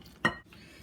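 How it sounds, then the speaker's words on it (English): A single quick stirring stroke scrapes through sopapilla dough as warm water is mixed in, brief and close. "Stir that in."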